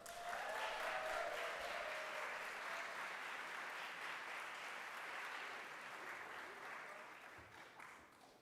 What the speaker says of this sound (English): Please join me in your applause in welcoming up PFT President Laurie Wayburn.